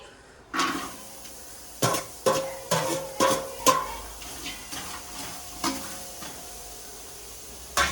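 Onions tossed into hot oil for a home-made chicken biryani, with a steady sizzle under a series of sharp spoon clacks against the pot, roughly one every half second to second.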